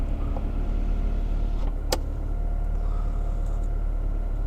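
Inside a McLaren 720S Spider supercar with the roof closed, the engine makes a steady, muffled low drone while driving, with a brief higher whir partway through.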